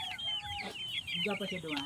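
Chickens cluck and chatter close by in quick, repeated bursts, while a person speaks briefly over them.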